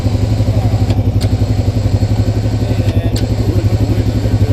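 A Honda Rancher ATV idling with a steady, loud, throbbing engine chug while its winch pulls a stuck Pioneer 500 out of mud on a trail, with a couple of faint clicks.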